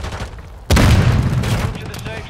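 Grenade explosions and gunfire in Call of Duty Warzone: after a quieter start, a sudden sharp blast erupts and sustained loud rattling, booming combat noise follows to the end.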